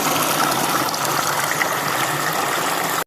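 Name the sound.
waterfall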